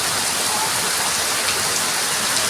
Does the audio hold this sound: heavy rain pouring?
yes